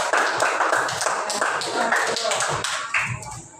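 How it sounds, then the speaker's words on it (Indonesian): Hand clapping from a primary school class of fourth graders, a dense run of claps with some voices mixed in throughout. "Tepuk tangan dulu untuk yang sangat besar."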